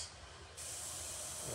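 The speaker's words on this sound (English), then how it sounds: "I'm just spraying." An airbrush sprays paint onto an RC car body, a steady breathy hiss that jumps louder partway in and holds close and even to the end, with no talk.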